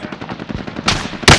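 Loud, close video game gunfire: a rapid burst of automatic shots followed by two heavier blasts, with no talking.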